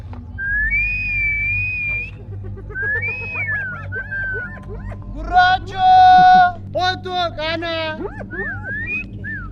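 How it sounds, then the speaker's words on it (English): A man whistles in short, sliding tones to call hyenas, repeated several times, with low rumbling and faint animal-like whines in the background. "He keeps calling them in by this whistle sound."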